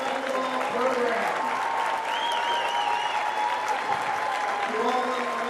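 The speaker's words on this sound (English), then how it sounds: "How about one more big Trojan round of applause as we celebrate our girls basketball program." A gymnasium crowd claps steadily for a high school girls basketball program, a dense sustained round of applause with scattered cheers and a whistle rising over it.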